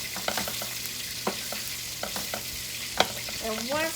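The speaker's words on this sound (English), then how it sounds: "you're going to keep on stirring this, make sure it's moving around and getting" Carrots being stirred and sautéed in a pan, with soft scraping strokes and light clatters against a low, steady sizzle, including a sharper knock near the end.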